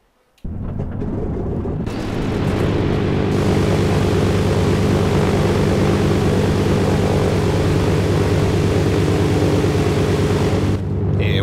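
Propeller plane starting up and taking off in Arma 2 DayZ, the engine kicking in abruptly, then a loud, dense, steady roar with a low buzzing drone that cuts off sharply near the end.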